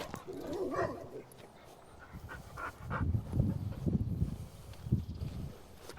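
A young, leash-reactive dog in a fear period whimpers and gives short yips and barks while out on a walk, with panting and footsteps close by and someone talking calmly over it.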